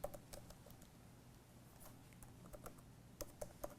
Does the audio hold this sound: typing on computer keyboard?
yes